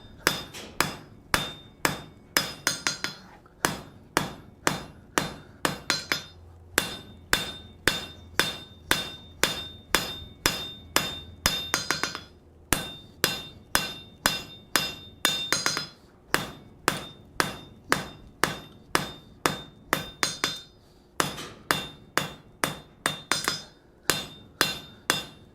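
Hammer striking hot metal on an anvil while forging and thinning a flat hook, sharp ringing blows in quick rhythmic bursts of several strikes separated by brief pauses, loud and close.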